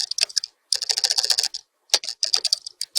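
A report name is typed on a computer keyboard in a monitoring web portal: quick bursts of crisp key clicks, close up, with a brief pause between groups and no one talking.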